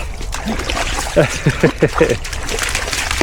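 Dogs on a countryside walk splashing into water after a stick, a few quick close splashes and sloshes over a background of speech.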